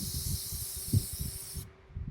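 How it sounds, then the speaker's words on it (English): Morphe Prep and Set makeup setting spray misted from a pump bottle, a close, steady airy hiss lasting about a second and a half before cutting off, with faint low background rumble. "I'm actually going to apply some setting spray to it. This is the Morphe Prep and Set Makeup Setting Spray."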